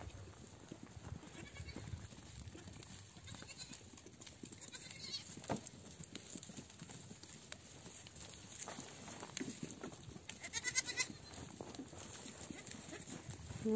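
Goats on a farm, one white and slightly beige and one beige, move about with soft clip-clopping hoof steps and occasional bleats, fairly quiet and close, with scattered farmyard rustling.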